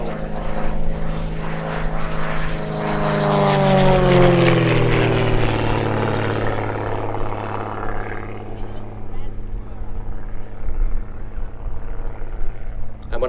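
Gamebird GB1 aerobatic propeller plane performing a negative-G push during an airshow display at Sywell, its engine roaring loudly past with a clear pitch sweep as it passes, then fading to a distant drone, with a commentator talking throughout.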